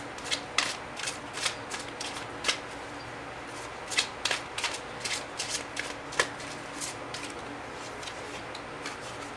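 Tarot cards shuffled in quick riffling bursts, crisp papery flutters with short pauses between them, close and fairly quiet with no voices.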